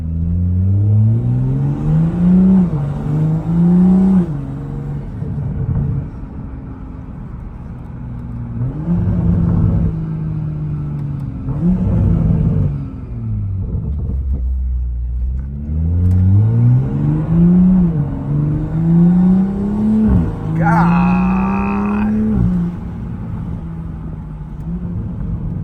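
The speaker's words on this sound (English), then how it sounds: "the turbo spool too is crazy." A Toyota Supra with a 5-inch downpipe accelerates hard through several gears, each pull rising in pitch with a growling exhaust and turbo whine. Sharp whooshes and flutters come between shifts.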